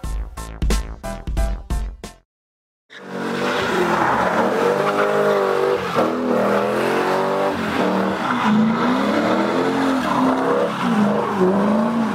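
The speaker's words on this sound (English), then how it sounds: "a drift car was unleashed for viewers to enjoy" A drift car at a modified car meet skids with a long, wavering tire squeal and revving engine, loud and close, after a short burst of engine pops and a brief silence.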